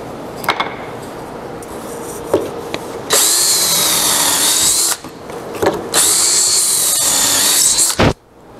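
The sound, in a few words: power drill drilling pocket holes into wood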